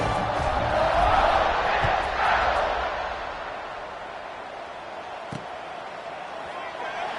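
Stadium crowd roars through a college football kickoff between Ole Miss and Missouri, loud broad cheering that swells early then eases to a steady distant hum, with a brief thud near the end.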